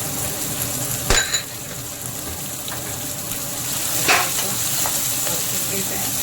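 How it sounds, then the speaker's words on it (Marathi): Chopped capsicum and peas sizzle and fry in hot oil for rava batata vada, with a continuous close crackle and a few sharp clinks of a spoon stirring in the pan. "त्याला मस्त तेलात घेऊन द्यायचं. त्याला असं परतून घ्यायचं."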